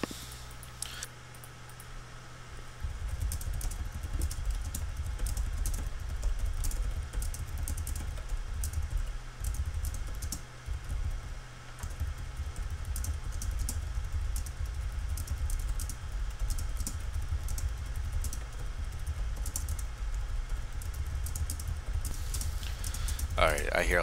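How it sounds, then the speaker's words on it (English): Rapid typing on a computer keyboard, with light, irregular key clicks running throughout under a low background hum and occasional speech. "I hear lots of typing"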